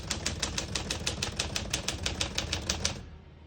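Keys of a 1950 Smith-Corona Silent portable typewriter striking in a steady, rapid rhythm, about twenty crisp clacks close up over roughly three seconds before stopping, with no voices.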